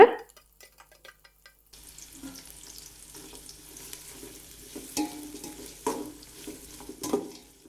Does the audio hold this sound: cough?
no